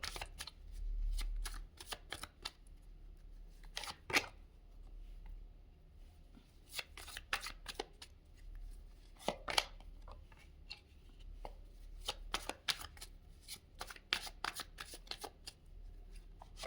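A deck of tarot cards is shuffled close by in repeated crisp riffling bursts with short pauses between them, fairly quiet and with no talking.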